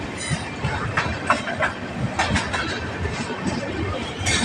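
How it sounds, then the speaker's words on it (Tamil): A Tamil Nadu Superfast Express train pulls into Warangal station, with steady loud rumble, rail clatter and brief squeals of wheels throughout, with faint voices mixed in. "வரங்கல் ஸ்டேஷன் வந்துடுச்சு மக்களே."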